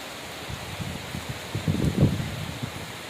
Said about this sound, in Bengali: কি সুন্দর হাওয়া দিচ্ছে